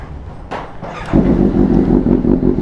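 A Suzuki GSX-S750 motorcycle engine runs nearby, with a couple of throttle blips before settling into a louder, steady rumbling idle that continues throughout, with no talk.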